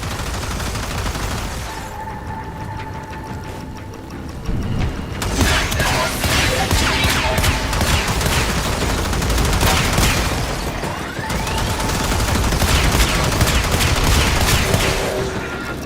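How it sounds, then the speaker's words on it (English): Sustained gunfire in the video game Warframe, a dense continuous clatter of shots and mechanical noise with a few louder surges, steady and fairly loud throughout. "who's shooting at me?"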